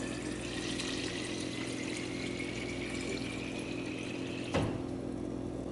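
Water running steadily into a SodaStream Fizzi bottle from a faucet, a constant hissing, gurgling flow with a slowly rising tone as the bottle fills, ending in a brief clunk.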